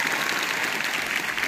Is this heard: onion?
no